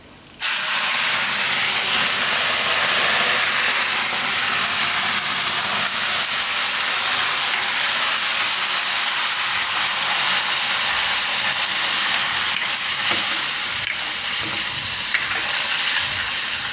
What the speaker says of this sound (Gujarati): હવે આ ગ્રેવી નાખી દઉં એમાં.